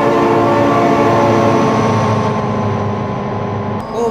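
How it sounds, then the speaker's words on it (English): Train rumbling past at close range in the BeamNG.Drive driving game, a loud steady roar with sustained tonal horn-like bands that holds for about four seconds, then begins to fade near the end. "Oh my god, train!"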